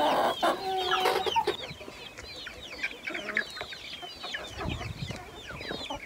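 Several farmyard hens cluck and chatter continuously, fairly close, with a busy overlapping rhythm and occasional louder squawks early on, no talking.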